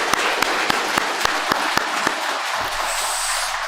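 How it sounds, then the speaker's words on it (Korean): A church congregation applauds during an Easter Sunday service, a crowd of hands clapping steadily with sharp individual claps standing out, fading toward the end; no one talks. "한 번 더 우리의 격려 박수하겠습니다."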